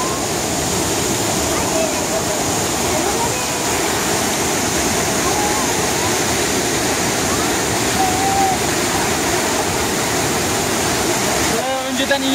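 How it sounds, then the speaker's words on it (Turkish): A waterfall in Düzce, Turkey, seen from a lower tier below a bridge, pours with a steady, loud roar of rushing water that fills the whole stretch without pause. "Arkadaşlar az önce yukarıdan baktığımız şelalenin bir kat aşağısına indik. O şelale şöyle devam ediyor."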